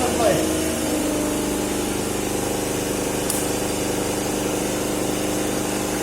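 A salient pole synchronous generator and motor set in a lab hums and whirs steadily at a constant pitch, close and fairly loud, with a faint click midway as the AC supply is switched off.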